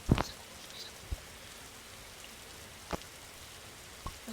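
Rain begins falling again outdoors at night, a faint steady hiss punctuated by a few scattered, distinct drop taps on a surface, with no talking.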